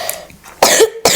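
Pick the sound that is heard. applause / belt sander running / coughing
coughing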